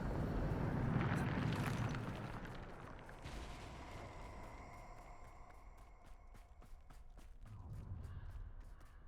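Bombarda, an explosion spell in Hogwarts Legacy, goes off as a loud rumbling blast that fades into a ringing, tonal magical decay, followed by lighter clicks and a softer rumble returning toward the end.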